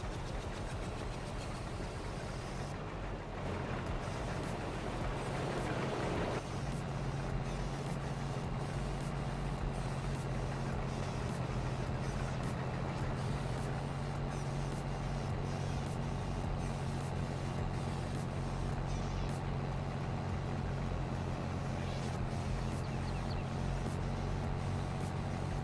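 A tractor engine idles and runs steadily for the full stretch, loud and continuous with a low droning hum, in the farming game Farming Simulator 22. No speech is heard over it.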